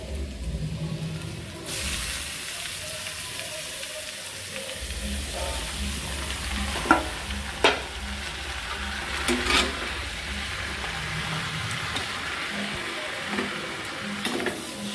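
Chopped ash gourd drops into a pan of fried ginger and erupts into a loud, steady sizzle, broken by occasional sharp clatters of a spoon stirring the pieces, with no one talking.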